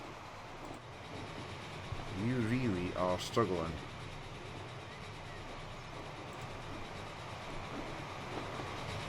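Steam locomotive hauling a heavy train on the Gotthard line in the game Transport Fever, a steady rolling rail rumble with faint clatter running throughout while someone speaks briefly over it.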